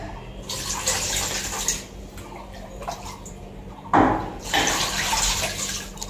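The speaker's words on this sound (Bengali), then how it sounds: "আস্তে পানি ফেলো, ফ্লোরে পড়ছে।" Water is poured from a bucket onto a floor in two splashing bursts, one early and a louder one later, with quieter trickling between them and no voices.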